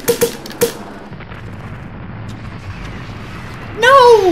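Call of Duty video game gunfire erupts in a few sharp bursts, then a low rumble hangs beneath, and a rising whooshing sweep swells loudly at the end, with no talk over it.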